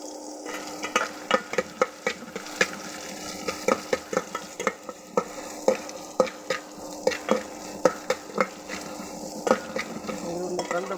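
Onion frying with garlic paste in a pan gives a steady sizzle under repeated sharp clinks of a metal spatula scraping and stirring, close and fairly loud, in a regular rhythm.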